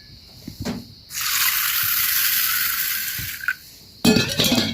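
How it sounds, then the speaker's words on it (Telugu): Green gram and rice are washed in water: a soft splash, then a steady gushing pour for about two seconds, and a brief sloshing stir at the end, with no talk. "ఒక 2 టైమ్స్ ఇట్లా వాటర్లో మంచిగా కడుక్కొని"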